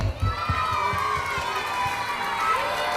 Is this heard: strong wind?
no